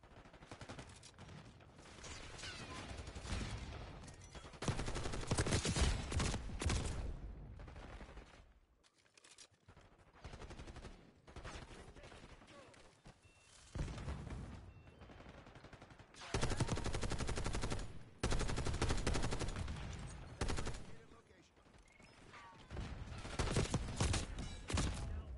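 Black Ops 6 gunfire in heavy, rapid automatic bursts that come in long volleys with quieter gaps between, loud and sustained over the whole stretch.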